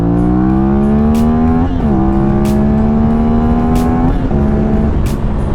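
A CFMOTO 450 motorcycle revs hard in second gear, its loud engine note rising in pitch, then dropping briefly at each of two quick shifts before climbing again, close up over constant wind noise.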